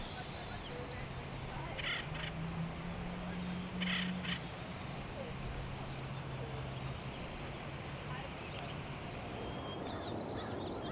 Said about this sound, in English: An acorn woodpecker.